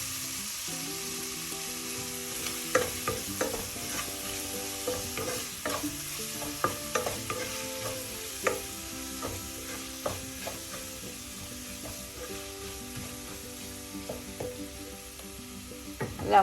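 Tuna curry masala is stirred and fried in a pan, with repeated spatula scrapes and knocks over a steady low sizzle, close and continuous.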